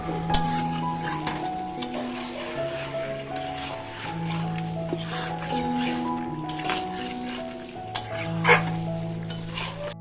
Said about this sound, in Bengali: মাংসটা সুন্দর করে কষিয়ে নিচ্ছি